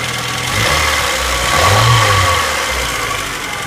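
A 1990 VW Golf engine revved up in two swells from idle, loud and close, the motor rising and falling without any talk.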